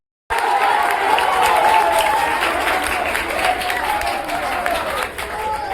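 A crowd of students at a Teachers Day celebration in a coaching centre applauds steadily with mixed shouting and cheering voices, loud and sustained for several seconds.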